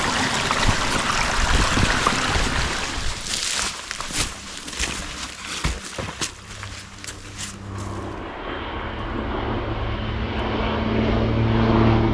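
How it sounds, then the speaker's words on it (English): Float plane flying low over a steep rocky gorge in Temagami, a broad engine drone heard over rushing water, swelling and fading as it passes overhead. "Just had a float plane flying really low."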